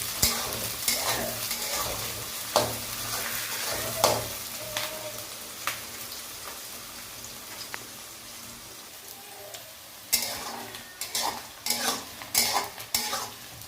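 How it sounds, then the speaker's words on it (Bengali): Onions and whole tomatoes fry in a pan, a soft continuous sizzle broken by repeated sharp scrapes and clatters of a spoon against the pan, busier toward the end. "আমরা গোটা গোটা টমেটো দিয়ে এবার পেঁয়াজ আর টমেটো ভেজে নেব।"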